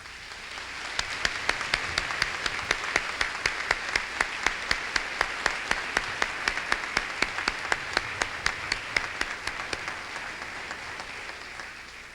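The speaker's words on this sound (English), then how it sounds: "Please join me in applauding these wonderful teachers." A graduation audience applauds the teachers with sustained, dense clapping, steady and moderately loud for the whole stretch with a few sharper individual claps standing out, no voices over it.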